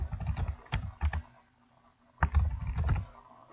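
Clicking keys on a computer keyboard sound close up as a password is typed, coming in two short quick bursts separated by a pause.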